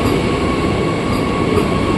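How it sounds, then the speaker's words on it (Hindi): Vande Bharat express train in motion, a loud, steady rumble of the rolling train heard from inside, with continuous broadband noise and no breaks. "लाल गाड़ी चल चुकी है वंदे भारत भारत की सबसे तेज चलने वाली गाड़ी"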